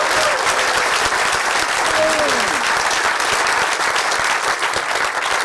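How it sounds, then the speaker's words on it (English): Steady, dense audience applause for performers on stage at a documentary film festival screening event, loud and sustained throughout, with a few voices calling out faintly within the clapping. "a round of applause for all of the fantastic talent that is on stage right now"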